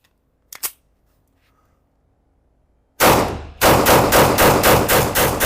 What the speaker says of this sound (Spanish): Vamos a intentar hacer algunos disparos un poco más rápidos